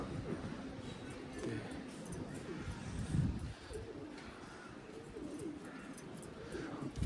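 Soft, low cooing of Malvi pigeons kept at a loft, heard faintly and continuously in the background with a few slightly louder swells.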